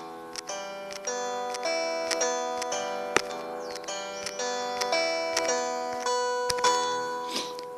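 A melody picked out on an Android instrument app: a steady sequence of bright, plucked tones struck roughly every half second, each ringing into the next, close and even in level, with no voices.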